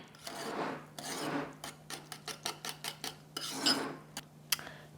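BBQ sauce ingredients and stevia sweetener stirred together in a bowl: longer rasping swirls at first, then a quick run of rhythmic scraping strokes, and a final sharp tap, close and fairly quiet.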